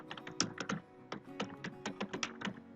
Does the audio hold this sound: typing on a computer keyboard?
yes